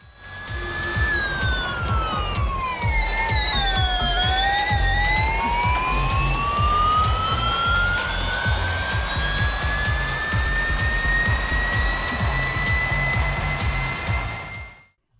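Engine roar from the Real Racing 3 racing video game, played on a gamepad, rises and falls in pitch as the car shifts, loud and steady for about fifteen seconds over a dense roaring bed.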